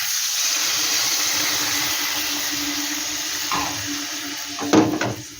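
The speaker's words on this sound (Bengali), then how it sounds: "দিয়ে দিচ্ছি জল।" Water pours steadily into a pan of shrimp curry, a continuous soft hiss with a couple of brief louder splashes near the end.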